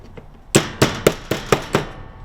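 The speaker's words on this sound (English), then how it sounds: "Kind of tap it in place." A door repair piece is tapped into place with six sharp, evenly spaced knocks about a quarter second apart. The taps are close, clangy and ringing, and there is no talking.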